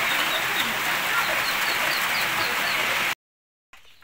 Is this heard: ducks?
yes